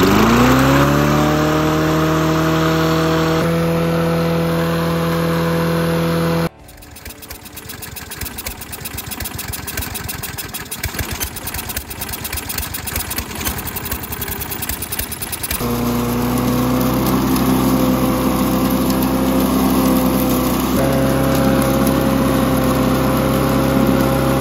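A small push lawn mower engine forced to run on diesel, started with a little gasoline, runs loud and close with a steady buzzing drone, shifting pitch and roughening mid-run before settling back to a steady idle.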